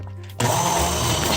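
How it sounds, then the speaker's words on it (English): An immersion blender starts abruptly and keeps whirring steadily while it purees roasted carrot and butternut squash soup right in the pot, loud and close with no talking. "what we're going to do now is just puree the soup right within the pot"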